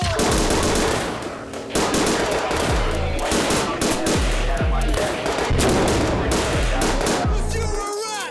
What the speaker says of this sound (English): I like the use of the guns in there.